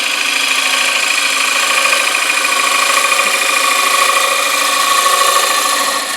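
A woodturning gouge cuts steadily into a wooden bowl spinning on a lathe, giving a loud, continuous, even whir and scrape that holds throughout with no pauses, and no speech.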